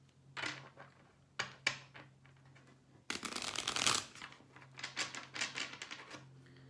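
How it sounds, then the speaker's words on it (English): A deck of tarot cards is shuffled by hand in short riffling bursts, with a long continuous flurry of card-on-card flicking in the middle, close and fairly quiet, with no talking. "he keeps me from shuffling, he keeps me from being able to handle the cards"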